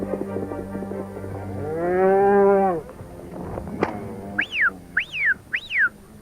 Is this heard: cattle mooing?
yes